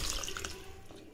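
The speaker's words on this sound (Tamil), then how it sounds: "இப்போ இதல வந்துட்டு கொஞ்சம் தண்ணி ஊத்துறாங்க" Water is poured into ground curry masala during home cooking for a festival day, a soft trickling, splashing stream heard close but quietly, with a few brief drip-like spatters.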